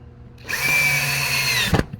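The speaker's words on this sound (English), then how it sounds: "and then with our screwdriver we have to" Cordless power screwdriver whirring as it drives a screw into a part on a low-budget DIY PLC trainer control board, one steady run of about a second and a quarter ending with a short clunk, close up.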